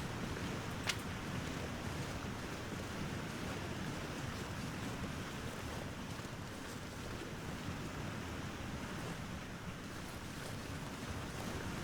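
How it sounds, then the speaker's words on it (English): A waterfall in the survival video game The Long Dark gives a continuous rushing roar with a wind-like texture, moderate in level and unchanging throughout, with no talk. "Getting close to that waterfall sound."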